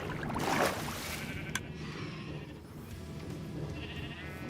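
Blocky sheep on a Minecraft farm bleat in a few short, nasal calls, one standing out loudest early on, over a steady low game ambience with no talk.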